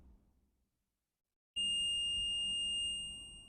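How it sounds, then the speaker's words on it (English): After a brief silence, a multimeter's continuity tester, checking capacitors on a shorted laptop logic board, gives a steady high-pitched electronic beep that starts and holds continuously to the end. "we are going to read the capacitors on their own to see if we get a beep across any of it"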